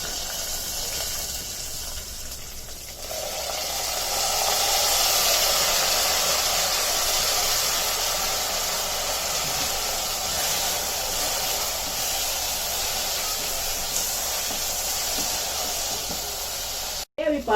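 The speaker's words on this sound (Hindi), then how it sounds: "दाल भून के हो गई, अभी चावल डालेंगे और चावल को भी अच्छे से भूनेंगे उसके अंदर।" Moong dal and rice roast in hot ghee, giving a steady, close sizzling hiss that grows fuller after a few seconds and continues evenly, with a voice faintly present.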